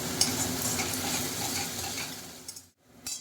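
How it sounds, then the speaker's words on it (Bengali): Onions fried until reddish-brown in a wok for a jackfruit and prawn curry give a close, steady sizzle with stirring scrapes. It cuts off briefly near the end, then returns for a moment. Nobody speaks. "পেঁয়াজটা লাল লাল করে ভাজা হয়ে গেছে"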